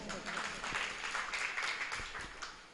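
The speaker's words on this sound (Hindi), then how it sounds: "डॉक्टर साहब के लिए तालियां बजाओ" An audience applauding a doctor at a Jain religious discourse, a modest patter of hand claps that is fairly faint and steady, with a few stronger claps mixed in.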